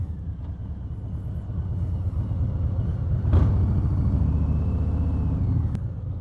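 A 2020 Harley-Davidson Low Rider S with a Stage 2 upgrade rumbles through a tunnel, its deep engine drone swelling and echoing off the walls, with a sharp burst near the middle and a steady rolling roar.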